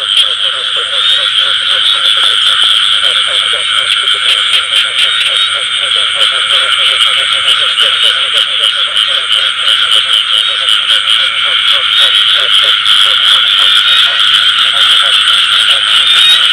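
Male field frogs in a flooded field at night after the first rain of the season, croaking in a loud, dense, unbroken chorus close by, with no break for the whole stretch.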